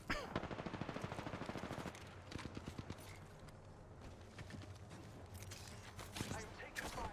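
Rapid automatic gunfire rattles through a Vtuber's video game session, a dense burst at first, then scattered shots and impacts, with a voice talking over the fire.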